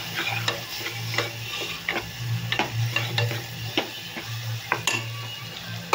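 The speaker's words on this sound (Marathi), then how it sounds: "आता मसाले घालून घेऊया आपले आणि चांगलं मिक्स करून घेऊया" Spices being stirred into dal in a pan: quick repeated scraping and clinking strokes of a spoon against the metal over a steady low hum and light sizzle, close and busy.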